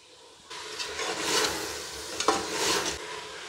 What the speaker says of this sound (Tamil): இதையும் நல்லா இந்த மசாலே பிரட்டி விட்டுக்கறலாம்.